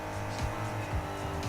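A Nissan Skyline GT-R corners in Need for Speed Heat, with a constant engine drone, repeated gear-shift dips and a faint tire squeal.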